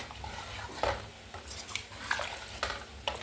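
Ground coconut curry masala stirred in a pressure cooker, the spoon scraping and knocking the metal pot in irregular strokes, close and clear over a faint low hiss, with no talking.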